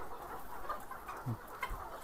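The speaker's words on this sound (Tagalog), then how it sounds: "Daming manok dito." Chickens on a ready-to-lay poultry farm give soft, scattered clucks over a steady background murmur of the flock, with a couple of brief, slightly louder calls standing out near the end.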